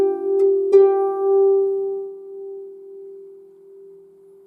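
A keyboard plays the closing phrase of the Christ Child Lullaby: a couple of soft single notes lead into one sustained tone that rings clearly and slowly fades away alone.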